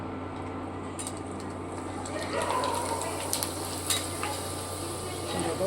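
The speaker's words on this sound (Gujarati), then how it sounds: "આપણું તેલ ગરમ થઈ ગયું છે હવે આપણે વેફર તરી લઈશું" Homemade potato wafers, boiled with only salt, fry in hot oil with a steady sizzle and bubbling plus a few clinks from stirring, close and moderately loud, with no talk.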